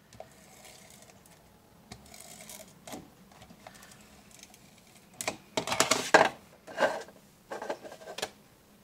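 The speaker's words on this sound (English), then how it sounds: "I'm going to line adhesive along all of the corners," Line adhesive being run along the corners of a papercraft stemless wine glass box, heard as scattered soft taps at first, then a cluster of louder sticky, squishy rasps and short bursts near the end, close up with no talking.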